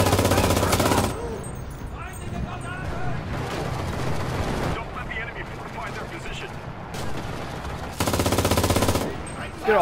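Gunfire in the Enlisted video game as soldiers shoot at a bunker: loud, dense bursts of automatic and rifle fire with heavy volleys near the start and end, under a steady din of combat.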